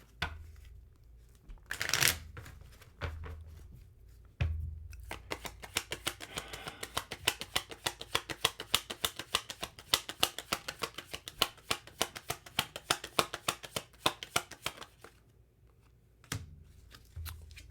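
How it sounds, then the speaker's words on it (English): Oracle cards are shuffled at length, a long run of rapid, close papery slaps and flutters after a few brief handling sounds, fading out into quiet with a final tap. "let me get a Rebel Oracle card out here for you, okay?"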